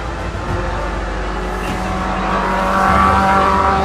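Race cars on a circuit roar past one another while overtaking, a loud continuous engine drone that swells toward the end, with no voices.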